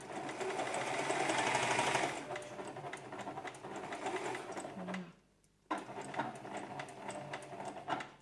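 A sewing machine stitches the seam of a baby apron with a steady close whirr, stops briefly for a near-silent pause, then runs again in a short backstitch burst.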